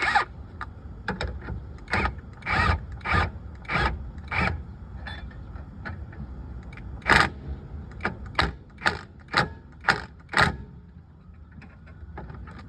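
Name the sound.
impact wrench tightening brake bolts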